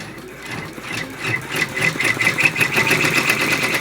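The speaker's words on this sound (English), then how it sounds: "Then when you're ready to resume, you hit the lock button again and start, and it starts off where it left off." A Brother PR655 embroidery machine stitches out a design, its needle chattering in a fast, steady rhythm that grows louder and busier, with no voices.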